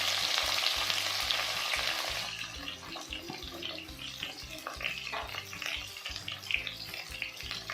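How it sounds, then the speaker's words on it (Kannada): Sliced onions frying in oil in a pan for a village-style brinjal tomato curry, steady close sizzling and crackling with occasional stirring scrapes, louder at first then settling. "ಆನಿಯನ್ ಫುಲ್ ಸಾಫ್ಟ್ ಆಗೋವರೆಗೂ ಚೆನ್ನಾಗಿ ಫ್ರೈ ಮಾಡ್ಕೋಬೇಕು."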